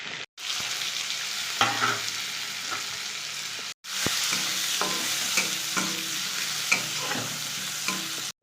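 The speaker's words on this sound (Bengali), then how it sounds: "আমি একটু কালো জিরে ফোড়ন দিয়ে দিলাম।" Black cumin seeds temper in hot oil with chopped onion and green chili for a Bengali home-cooked dish. A loud, steady crackling sizzle carries on throughout, with a brief break and occasional stirring scrapes, and no talking.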